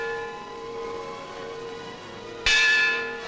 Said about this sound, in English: The lutein bell was rung twice.